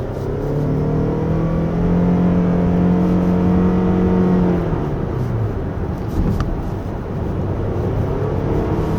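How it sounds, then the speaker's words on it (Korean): A 2024 Toyota Alphard 2.5 hybrid accelerates along a winding road, its engine hum and tyre and road noise holding steady inside the cabin, with a low drone that eases off near the end. "이제 가속해서 이 속도를 올려갈 때 그 엔진의 기여도가 좀 높아진 느낌입니다"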